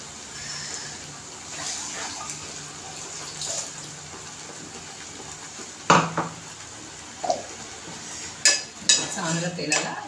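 A grinding vessel being rinsed with water and poured into a pan of frying raw masala paste for okra kadhi, with running water and splashing, then several sharp metallic clanks of the vessel and pan.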